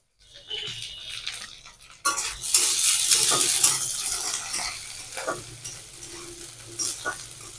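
Slit green chilies drop into browned onions in a hot pan, setting off a loud burst of sizzling and frying that persists while a utensil stirs and scrapes. No one speaks.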